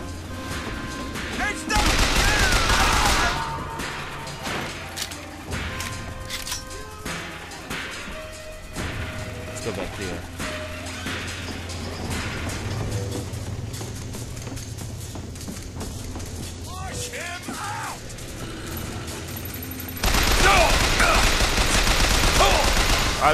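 Gunfire in the video game Bioshock Infinite during an airborne assault: dense, loud bursts of shots and crashing impacts over a busy battle din, with a heavy volley at the start and another at the end.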